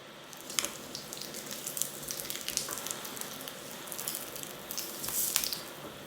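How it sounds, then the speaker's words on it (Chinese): Pork belly searing in a little oil in a pan for Japanese chashu, a steady crackling sizzle with bright spattering pops that swells briefly near the end, close and alone with no talk. "然后开始煎肉"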